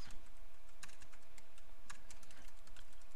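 Rapid typing clatters on a computer keyboard while logging into an engineering tenant, with irregular clicks and a few louder key strikes, close and alone over a steady background hiss.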